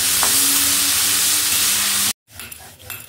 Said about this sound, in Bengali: এদিকে হচ্ছে বরবটি ভাজা।